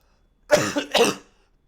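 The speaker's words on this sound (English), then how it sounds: "Just can't get rid of this cough." Two sharp coughs in quick succession, close and loud, then silence.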